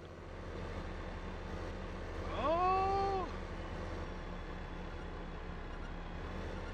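A train in Farming Simulator 2015 sounds a single rising-then-steady horn blast lasting under a second, moderately loud over a constant low rumble of machinery.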